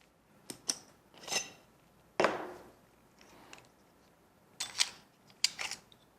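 Lenovo 14m Chromebook turned over and handled to open its bottom cover, with a few sharp plastic clicks and taps, one louder knock, then scattered rustles and clacks of handling nearby.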